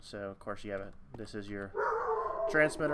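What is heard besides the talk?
dog barking in the background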